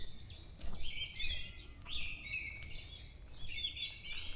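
Small songbirds in a Korean forest on Bongseosan mountain sing high, quick chirping phrases, repeated and overlapping. Several calls sound fairly close over a quiet woodland background.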